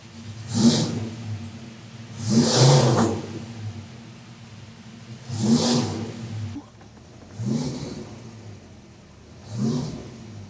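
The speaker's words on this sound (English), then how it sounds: "Gonna let some heat come into the engine." A 56-year-old car's engine revs up and settles back repeatedly while warming up, five rising roars spaced a couple of seconds apart over a steady idle.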